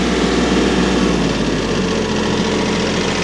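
On a farm where firewood is split and stacked, an engine idles loud and close, a steady low rumble that drops slightly in pitch partway as the revs come down, with no talking.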